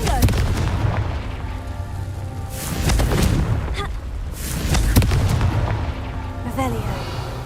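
Booming explosions from the Confringo fire spell in Hogwarts Legacy, three broad blasts spaced a couple of seconds apart over a constant game backdrop, loud and close.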